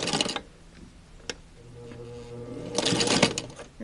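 A sewing machine stitching a strand of acrylic yarn onto a quilted surgeon-style mask, with the flower foot removed, runs in short mechanical bursts separated by quieter ticking and handling noises, fairly faint and close.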